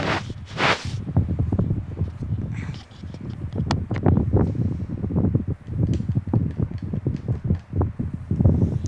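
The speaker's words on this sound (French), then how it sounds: "En plus il y a du vent" Gusty wind at a rally special stage in Corsica buffets the microphone in uneven rumbling bursts, with rustling and scattered thumps and no voices.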